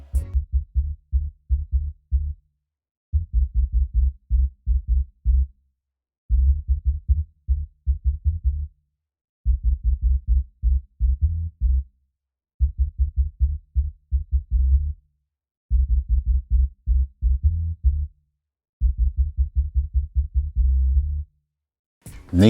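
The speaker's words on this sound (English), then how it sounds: "we've got the bass. Sounds like this." Bass sample from the Sounds from Yard sample pack plays a deep, repetitive pattern of rapid low pulses in grouped phrases with short gaps, loud and clean, with no other sounds.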